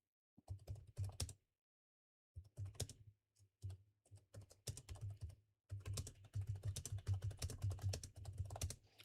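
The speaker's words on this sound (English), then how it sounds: "just typing in the background" Bursts of typing on a computer keyboard during a live Evony PvP game session, rapid clustered keystrokes separated by short pauses and then a longer unbroken run, close and fairly loud with no talk.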